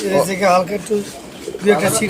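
Pigeons coo in short, soft bursts at the Saruliya pigeon market, close by and interleaved with people talking.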